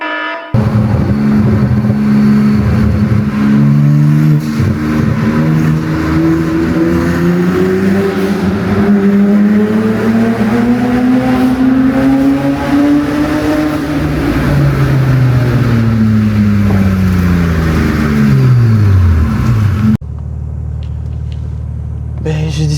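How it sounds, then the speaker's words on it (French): A car drives along steadily, its engine droning loud and close with rising and falling pitch as it accelerates and eases off over about twenty seconds, then quieter cabin rumble at the end. "vous montrer que la voiture fonctionne, elle roule bien"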